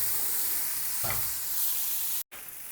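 Spices sautéing with onion and tomato in a pan on a lowered flame for egg bhurji, a soft steady sizzle with a brief stirring scrape in the middle, fairly quiet and close.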